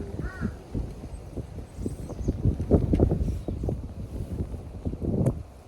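Crows caw repeatedly in the distance over gusty wind buffeting the microphone, the calls irregular and moderately loud.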